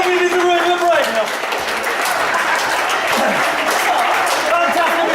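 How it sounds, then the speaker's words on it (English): An audience applauds as volunteers walk to the front of the room at a live event, with dense, loud clapping throughout and a voice talking over it. "People will give you a huge round of applause as you make your way to the front of the room."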